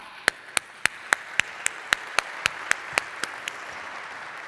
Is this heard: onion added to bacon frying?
no